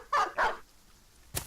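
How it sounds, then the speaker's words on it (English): Dogs in the Battle Brothers video game give two quick, loud barks close together, then a short yelp after a pause, with no talk. "The dogs begin moving around."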